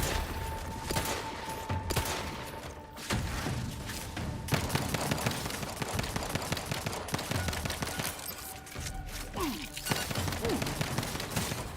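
Rapid bursts of video game gunfire as a magazine is emptied, loud sustained volleys over about twelve seconds with scattered booms and faint voices underneath.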